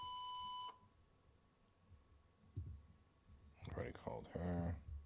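A steady electronic voicemail beep tone on a phone call sounds at the start and cuts off sharply, followed by quiet line noise and then a person talking.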